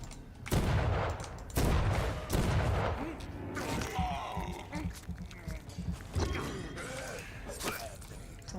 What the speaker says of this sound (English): now I know how to use a gun.